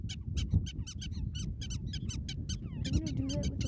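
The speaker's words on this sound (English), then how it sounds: "notice how the squeaks of the prairie dog come closer together as danger gets closer" Prairie dog warning squeaks ring out as a rapid series of sharp, high chirps over a rumbling low background, coming in quick succession and growing denser as they continue, with a faint voice briefly audible.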